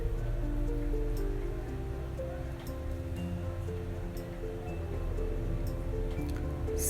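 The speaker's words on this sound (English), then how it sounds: "the first thing first is to fry ginger, garlic, and onion" Ginger, garlic and onion fry in a pan with a continuous crackling sizzle, loud and close, with dense popping spatter and a low steady rumble beneath.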